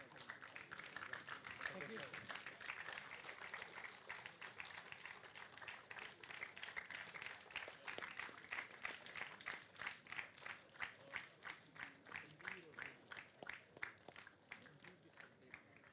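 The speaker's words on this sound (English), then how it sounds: "please welcome Mr. Mohammad Gauss to receive the certificate with great applause" An audience applauds at a documentary film festival award ceremony as a recipient comes up to receive a certificate. The clapping is sustained and faint, spread through the hall, and turns into slower, rhythmic clapping toward the end.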